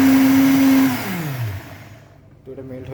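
A blender whirs loudly through a strawberry milkshake made with frappe powder, holding a steady high whine before the motor winds down and fades; a brief mechanical sound returns at the end.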